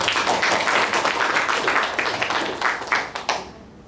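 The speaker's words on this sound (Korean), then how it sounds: "우리 박수 한번 하겠습니다" A church congregation breaks into brisk, dense hand clapping, a crisp rattling burst that carries steadily for a few seconds before quickly dying away.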